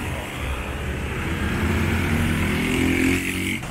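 A motorcycle passes along a city avenue in São Paulo's Vila das Belezas area. Its loud, sustained engine drone swells steadily, then cuts off abruptly near the end.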